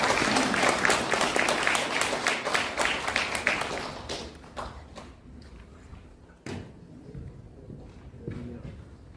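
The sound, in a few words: audience applause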